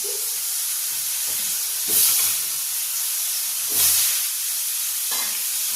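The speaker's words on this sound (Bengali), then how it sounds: "এবার এই তেলের মধ্যেই আমি আলু আর কুমড়োটা ভেজে নিচ্ছি" Potato pieces frying in hot oil in a home kitchen, a loud, continuous hissing sizzle that swells twice as more pieces or stirring stir it up, with faint handling bumps underneath.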